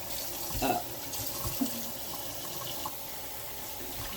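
Dandelion greens rinsed under running water in a sink, a quiet steady splash and trickle with a few louder sloshes as the leaves are moved around.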